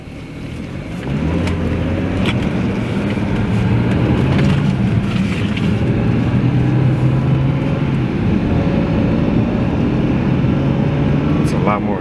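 Steady engine drone and road rumble from a BMW 335i with the N54 engine cruising at light throttle, with the sustained low hum continuing throughout and a voice talking over it.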